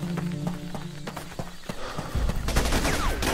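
Enemy patrol gunfire in Raven Squad rattles in rapid bursts. Sharp cracks repeat through the first half, and a denser, louder barrage fills the second half.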